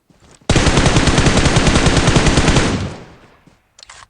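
Automatic gunfire in the mobile battle royale game PUBG Mobile: one long, loud, rapid burst of shots lasting a couple of seconds, fading out, followed by a few short bursts near the end.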